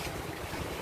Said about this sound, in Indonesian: ombaknya itu nggak mau diem dari pagi, anginnya ngegas terus